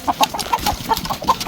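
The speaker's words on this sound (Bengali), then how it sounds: "এখানে মূলত মুরগিগুলো আছে, কি সুন্দর বড় বড় মুরগি।" Large chickens on a farm shed in South Korea cluck in a quick, repeated series of short calls, close and clear with no talking over them.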